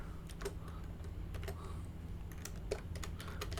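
Code being typed on a computer keyboard: a quiet, close run of irregular key clicks with short pauses, some strokes sharper than others.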